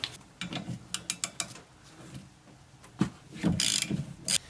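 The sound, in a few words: ratchet wrench removing 14 mm wiper arm nut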